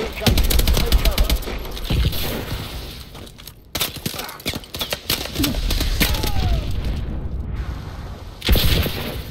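Heavy explosions from an incoming missile strike rumble through a Call of Duty Advanced Warfare free-for-all match, with a loud blast at the start, dense crashing bursts and gunfire-like crackle throughout, and another loud impact near the end.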